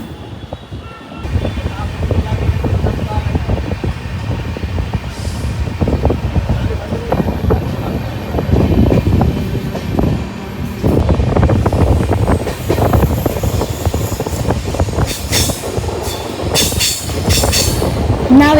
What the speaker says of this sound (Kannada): ನಮ್ಮ ಟ್ರೈನ್ಗೆ ಡಿಪಾರ್ಚರ್ ಕೊಟ್ಟೇ ಬಿಟ್ಟು ನಮ್ಮ ಜೊತೆ ಗೋಲ್ ಗುಂಬಜ್ ಎಕ್ಸ್ಪ್ರೆಸ್ ಕೂಡ ಡಿಪಾರ್ಚರ್ ಆಗ್ತಾ ಇದೆ ನೋಡಿ